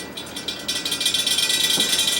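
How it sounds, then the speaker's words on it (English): A Bersted oscillating electric fan whirs with a fast, steady rattle from a loose center cap in its blade, a continuous bright buzzing chatter, close and with no voices. "That noise you're hearing is the center cap."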